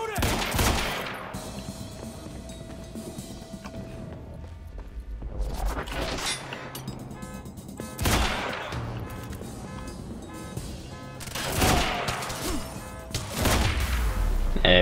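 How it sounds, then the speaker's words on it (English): Bursts of gunfire from the video game Quantum Break, with several loud volleys of rapid shots spaced a few seconds apart and a steady background hum in between. "Open fire!"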